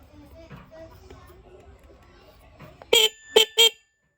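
Three short, loud horn beeps from a 2024 Rusi Macho 125 motorcycle, its faulty horn being adjusted, in quick succession after a stretch of quiet background chatter, close by.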